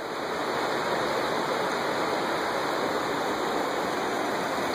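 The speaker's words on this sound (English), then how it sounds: "Panther Creek coming down right there." Panther Creek in the Cohutta Wilderness rushes steadily and loudly, a constant full-bodied flow without pauses or voices.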